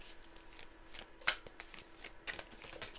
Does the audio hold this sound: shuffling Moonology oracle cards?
yes